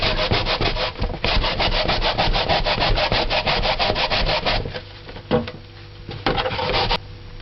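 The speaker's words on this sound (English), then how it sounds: "So this is my Jamaican grater. Just bought it, and you just work it." Sweet potato scraped hard on a Jamaican grater in quick, regular rasping strokes for several seconds, close and loud, then slowing into a few scattered scrapes with short pauses.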